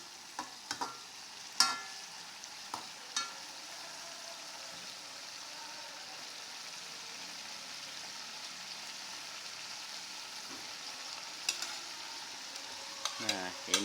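Tedas Anis, a Banjarmasin dish, is stirred as it cooks, giving a soft continuous sizzle with a few scraping clacks of the utensil near the start and more toward the end.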